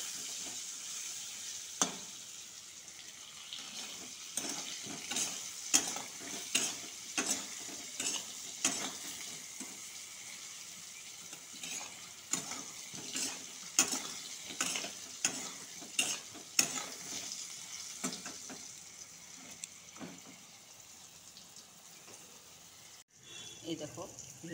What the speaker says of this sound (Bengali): দেখো লাল লাল হয়ে গেছে পটলগুলো। ভালো করে ভেজবো, ভাজবো।